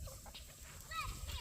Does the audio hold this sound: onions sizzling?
no